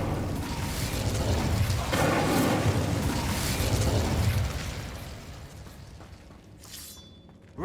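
Incendio fire spell from Hogwarts Legacy bursts into a dense, roaring crackle of flame that holds strong for several seconds, then gradually fades away.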